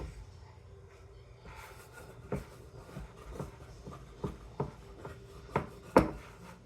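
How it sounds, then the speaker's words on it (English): Homemade biscuit dough is scraped from a mixing bowl, giving a series of soft rubbing scrapes and dull knocks that grow louder toward the end in a quiet kitchen. "Scrape my bowl."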